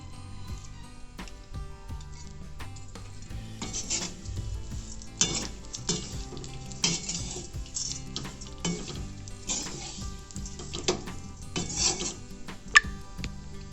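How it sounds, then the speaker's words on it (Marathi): Grated coconut is roasting in oil in a pan with a low, steady frying crackle, while occasional scrapes and sharp taps from the spoon or ladle against the pan rise above it, close by. "सतत हलवत राहायचं नाही हलवत हलवलं तर करत येते तेल घालायचं आहे एक ते दीड पळी"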